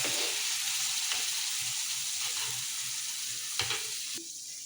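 Close, steady sizzling and bubbling of curry masala with black pepper in a pan with a few stirring scrapes, the hiss easing slightly near the end; no voices.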